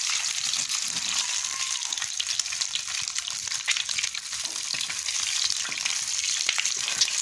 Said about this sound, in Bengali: যে ডিমের কোরমার জন্য আমি ডিমটা ভেজে নিচ্ছিলাম।